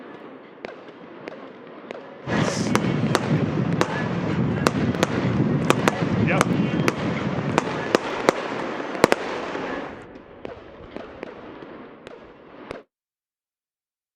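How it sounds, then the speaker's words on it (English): Post-game fireworks at the Cotton Bowl stadium after a Dallas versus Tampa Bay soccer match pop in rapid sharp bangs over a dense roaring rumble, then thin out before stopping; a voice speaks briefly. "The fireworks are going off post-game here at the Cotton Bowl"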